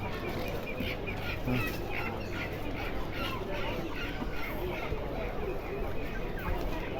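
Chickens cluck and chatter nearby amid a busy animal market in Fossa, Italy, with people talking over the scattered bird calls.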